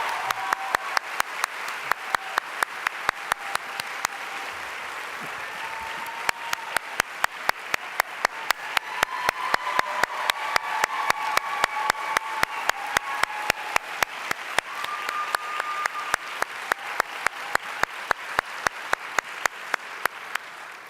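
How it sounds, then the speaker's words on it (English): Audience applause at a Wake Forest PA Studies white coat ceremony, steady dense clapping from a large crowd that runs the whole time with sharp individual claps standing out, no talking over it. "If we can just give Dr. Ober a quick round of applause"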